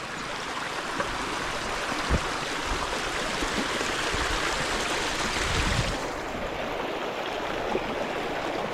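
A stream rushing steadily over stones at a forest river crossing on the Narmada parikrama route, a continuous close wash of flowing water with no voices.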